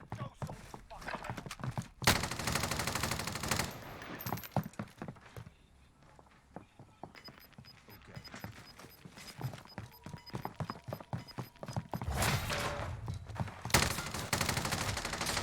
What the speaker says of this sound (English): Jay's getting shot at